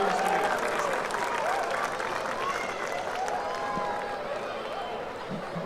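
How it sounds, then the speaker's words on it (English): A crowd applauding at an evening youth dance event, sustained, fairly distant clapping with some cheering and voices mixed in, steady throughout. "A round of applause,"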